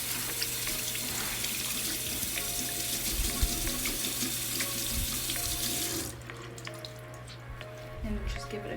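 Running tap water rinsing soap from a makeup brush in a sink, a steady loud splashing hiss that drops abruptly to softer trickling and dripping near the end.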